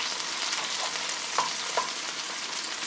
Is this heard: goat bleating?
no